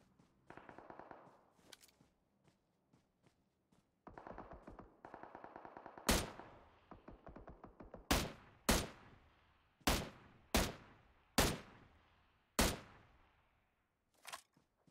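Gunfire in the battle royale game PUBG Mobile, with a few quiet distant bursts early on, then a string of sharp, loud, close single shots spaced a second or so apart, each ringing off briefly.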